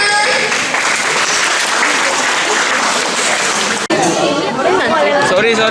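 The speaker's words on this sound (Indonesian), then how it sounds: "boleh tepuk tangannya teman-teman" A room of friends at a community event breaks into sustained applause, with loud dense clapping and chatter, a brief cut near the end, then clapping mixed with voices talking over it.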